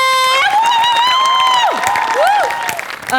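A studio audience at a Marathi TV comedy show claps and cheers loudly throughout, mixed with bright, swooping musical sound-effect tones.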